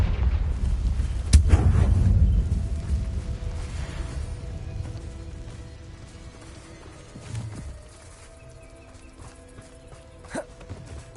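The Confringo fire-blast spell from Hogwarts Legacy on PS5 goes off in one sharp, loud burst with a rumbling low tail, followed by quieter game ambience and a few faint thuds.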